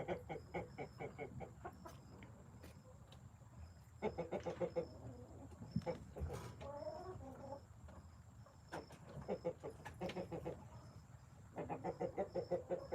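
Rooster in a chicken coop giving repeated rhythmic clucking bursts to call hens to found food, fairly near, with other chickens and birds softly in the background.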